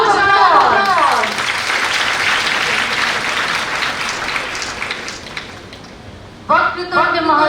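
Audience applause at the opening of an international conference on Sustainable Development Goals at an India Japan festival, a dense steady wash of clapping between stretches of music at the start and end.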